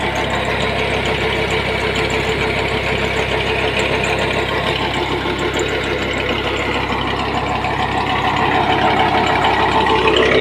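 A Peter diesel engine powering a tube well runs steadily up close, a loud, even chugging drone with a knocking beat that holds without a break and with no voices.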